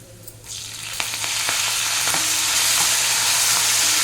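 Curry leaves, green and dried red chillies, and asafoetida hit hot oil for a tempering, starting quietly, then bursting into a loud, crackling sizzle that builds and holds steady, with soft stirring taps.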